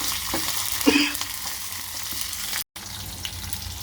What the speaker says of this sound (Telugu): తర్వాత కరివేపాకు వేసాను